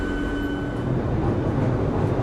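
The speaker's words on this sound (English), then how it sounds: "This is a Victoria Line train to Brixton" A London Underground Victoria Line train to Brixton carries a dense, steady low rumble from the wheels and car, loud and close, with a faint high whine above it and no speech.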